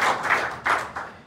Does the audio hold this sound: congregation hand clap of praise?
yes